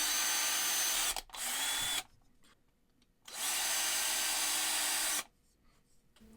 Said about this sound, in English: So you want to run a 3mm drill bit through this to clean it out.